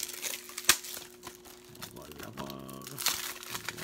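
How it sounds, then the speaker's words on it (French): Plastic wrap crinkles and tears as a 4K Ultra HD and Blu-ray combo film case is unwrapped, with close crackling and a sharp rip near the start, under a low background tone with some talk. "Je vais vous le déballer."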